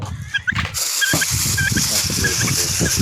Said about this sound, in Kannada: ಟರ್ಕಿ ಕೋಳಿ